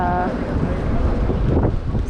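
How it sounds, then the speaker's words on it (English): Strong, cold wind in New York City buffeting the microphone in a constant low roar, with a brief tonal sound at the start and a faint voice beneath. "It's quite cold and really windy"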